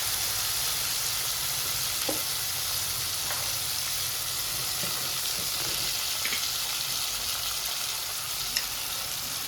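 Green chillies fry in a pan with a steady, close sizzle and hiss that carries on throughout, marked by a few faint clicks of stirring and no talk.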